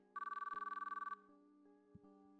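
Phone ringing in the video game Chaos;Child: a fast, trilling electronic ring pulses for about a second, then stops, leaving a soft sustained musical background with no talking.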